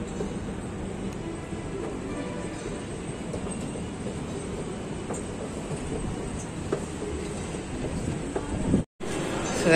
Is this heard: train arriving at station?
yes